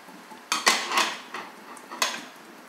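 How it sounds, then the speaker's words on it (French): A lid is set onto a metal cooking pot, producing a few close metallic clanks and rattles in quick succession, then one last knock as it settles. "je vais couvrir la marmite."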